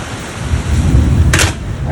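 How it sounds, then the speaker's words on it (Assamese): Heavy rain pours steadily near a neighbourhood prayer house in Assam, a dense roaring wash with a brief sharp crack partway through. "ক্ৰমান্বয়ে মানে বৰষুণটো বাঢ়ি গৈ আছে"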